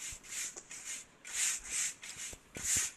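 In the Internet Cafe Simulator video game, a broom sweeps up trash with regular swishing strokes, about eight soft brushing sweeps in a steady rhythm, heard clearly on their own.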